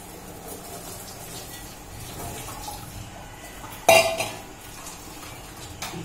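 Boiled noodles are strained in a kitchen, water trickling quietly before a sharp clink of a bowl and utensils knocks loudly once, followed by softer clatter.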